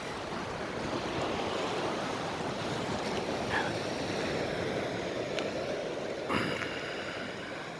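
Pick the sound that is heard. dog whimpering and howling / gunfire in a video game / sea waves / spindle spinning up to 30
sea waves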